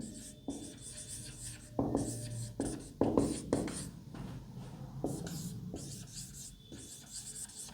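Pen or chalk writing out a handwritten math proof on the irrationality of square roots, with irregular scratchy strokes and taps, near and moderately loud, with occasional quiet speech.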